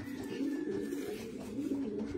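A pigeon coos softly and repeatedly at close range in a loft of racing pigeons, the low murmuring call going on without any talk over it.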